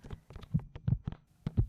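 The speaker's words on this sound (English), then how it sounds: "they can listen to my heartbeat" A slow, muffled heartbeat, heard as if with an ear pressed to a chest, gives soft low double thumps, roughly three paired beats in under two seconds, close and quiet with nothing else behind them.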